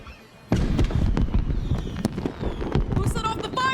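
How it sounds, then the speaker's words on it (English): Fireworks burst and crackle in the Honor of Kings game, a sudden loud onset followed by dense popping and sharp bangs, with whistling streaks toward the end and voices talking over them. "Who set off the fireworks?"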